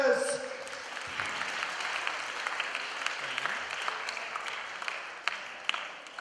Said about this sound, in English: And a big clap for all the actors.